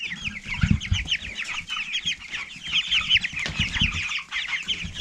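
Four-week-old baby chickens cluck and cheep busily in a continuous chorus, with scuffling and light thumps of small birds running about close by.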